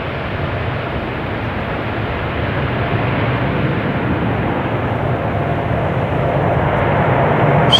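KLM flight 5591 bound for Johannesburg departs Amsterdam Schiphol, its jet engines a steady, loud broadband roar that holds level and close throughout with no break.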